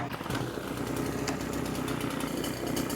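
A Husqvarna 350BT backpack blower engine idles nearby, a steady, buzzy two-stroke putter that holds an even level throughout with no revving.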